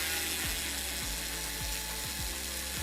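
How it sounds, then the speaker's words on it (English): A small electric screwdriver backs Torx screws out of a car ECU housing, making a loud continuous motor whine with regular ratcheting clicks about twice a second, close up, with no talking. "We're going to start opening the ECU, starting with our little electric screwdriver first and foremost."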